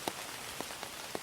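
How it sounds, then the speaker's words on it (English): Rain falling in autumn woods during a West Virginia archery hunt, heard as a quiet, steady patter with a few sparse, distinct drops landing on leaves at irregular intervals. "It's been raining off and on."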